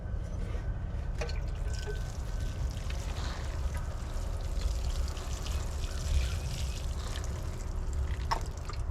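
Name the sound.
watering seedlings in a starter kit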